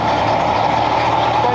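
An armoured vehicle engine runs with a loud, steady low rumble and droning roar throughout, close by with no pauses.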